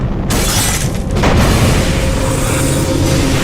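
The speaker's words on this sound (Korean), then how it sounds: "아이작이 예언했던 대로 뉴욕이 폭발하자" A loud explosion sound effect for New York blowing up in a science-fiction drama: a sharp burst at the start, a brief dip, then a second heavy boom swelling into a sustained roaring rumble.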